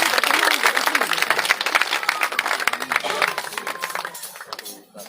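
An audience applauds a guest at an International Women's Day gathering, with dense clapping running for about four seconds before fading out, while a voice is heard under the clapping.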